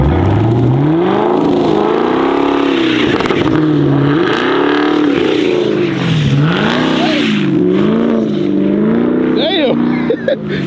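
An AWD Infiniti Q50 slides in snow, its engine droning and rising and falling in pitch with the wheelspin, loud and close, while people talk over it throughout.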